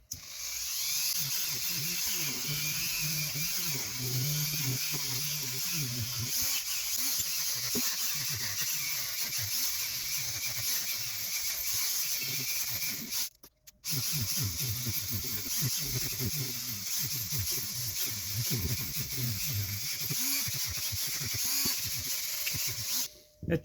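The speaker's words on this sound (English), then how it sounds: "we got our Dremel, our polishing tips" A Dremel rotary tool with polishing tips works on the spool of a vintage Luxor Pezon Michel spinning reel, giving a steady high whine with shifting grinding tones that runs almost the whole time, broken by one short pause midway.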